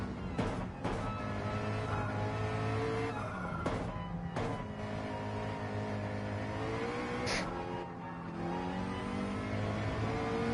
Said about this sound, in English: I love the sound of that McLaren.